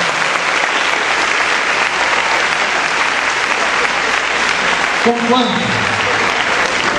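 Church congregation applauding together after a sung praise, steady broadband clapping throughout with a brief voice speaking over it near the end.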